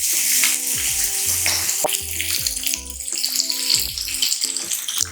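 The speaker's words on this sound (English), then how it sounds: "Now I'm going to add some chopped onions right into the pan." Chopped onions hit a hot pan for an egg sauce and burst into a loud, close sizzle that crackles steadily without pause.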